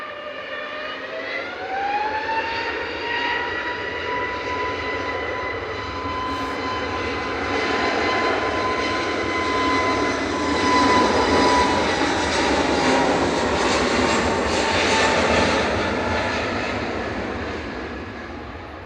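An EasyJet airliner departing Manchester Airport for Corfu: a steady, loud jet roar with a rising whining tone that swells and then slowly fades, with no voices.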